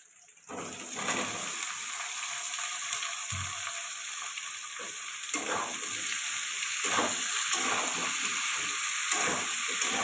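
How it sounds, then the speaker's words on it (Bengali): Onions frying in a hot pan for a soybean and vegetable dish, a dense, steady hiss and sizzle that swells as it starts, with scraping stir sounds and crackles, close up and free of talk. "পেঁয়াজটা ভাজা হয়ে গেছে এবারে সবজিগুলো দিয়ে দেব"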